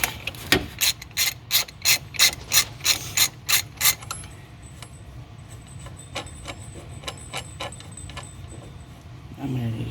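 A ratchet tool backing off during a water pump replacement: a run of about ten loud, evenly spaced clicks up close, then quieter, sparser ratcheting and metallic rattles, with a voice briefly present.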